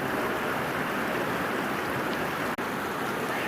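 A big village river rushes with a dense, loud, continuous roar of flowing water where children swim, briefly cut by a momentary dropout.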